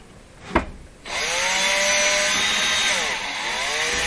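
A power drill runs steadily at close range, its whine rising and settling for several seconds after a sharp knock, during work restoring a Bing Crosby Research Foundation Junior Juke jukebox.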